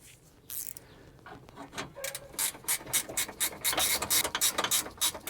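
A ratchet wrench clicks in quick bursts while snugging a bolt during radiator replacement on a 2006-2010 Toyota Camry, the rapid ratcheting growing louder and denser toward the end, close up and without talk.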